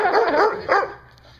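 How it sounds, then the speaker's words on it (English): A dog barks several times close by, loud yippy barks in two quick bursts with a whimpering tone, then fading to quiet. "Oh, he's barking back."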